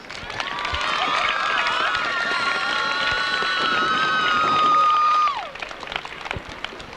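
Crowd applause for a homecoming court nominee at halftime of a 1998 high school football game, Sterling vs Woodbury, a broad sustained wash of clapping and cheering that rises and then cuts off abruptly near the end, with a tonal sound running underneath.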